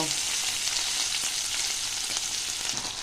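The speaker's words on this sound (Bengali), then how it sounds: "তো এই যে দেখো পেঁয়াজ আর টমেটোটা আমি ভালো করে ভেজে নেব।" Chopped onion and tomato frying in oil in a pan after bhetki fish, a loud, dense, continuous sizzle with faint stirring scrapes and no speech.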